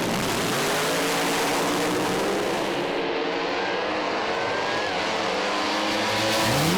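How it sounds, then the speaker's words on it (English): Pro Slammer drag cars launch and race down the Willowbank Raceway strip at New Year Thunder with a loud, sustained engine roar, close and overwhelming. The pitch shifts as they pass. No voices are heard. "Massive hole shot to Sam Fennick, and he runs away with a 595 at 387 kilometres an hour ahead of Michelle's 603."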